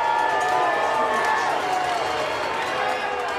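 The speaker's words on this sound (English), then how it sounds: "Hear the crowd wild up." Crowd roaring and cheering in the stands at a high school football game, Massillon Tigers against Central Crossing Comets, as the Comets near a touchdown; a dense, steady wash of voices with a play-by-play announcer talking over it.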